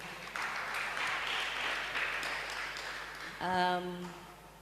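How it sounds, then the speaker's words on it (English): Audience applause at a panel discussion, a steady wash of clapping for about three seconds before a voice begins speaking close by as it fades. "Let's give Abdullahi a round of applause."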